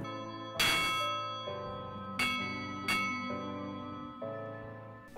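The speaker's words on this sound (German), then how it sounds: "Ich gehe jetzt die Wunschglocke läuten." Five rings of a wishing bell at a lookout on the Nockalmstraße in the Nock Mountains: clear, resonant strikes spaced about a second apart, each ringing out and decaying before the next, with no talk.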